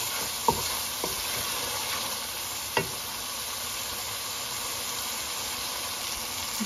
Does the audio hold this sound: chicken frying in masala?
yes